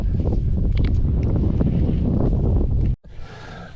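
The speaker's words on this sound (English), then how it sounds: "fight this wind a little bit" Strong wind buffets the microphone on a lake during bass fishing from a boat, a loud low rumbling roar that cuts out abruptly near the end, leaving a quieter rush.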